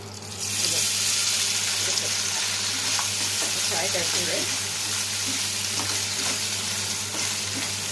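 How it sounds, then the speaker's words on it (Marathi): Spice paste frying in a pan gives a dense, continuous sizzle that starts suddenly and stays loud and close throughout, with faint scraping stirs and a low steady hum underneath. "थोडेसे फ्राय करायचे"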